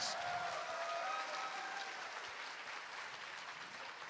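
An audience at an auction applauds after a £250 bid, a steady wash of clapping that stays fairly even and fades slightly toward the end, with no talk over it.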